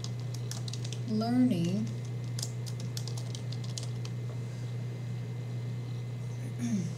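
Computer keyboard typing while entering a search into a web page, a run of quick soft clicks through the clip over a steady low hum, with a brief spoken word in the background.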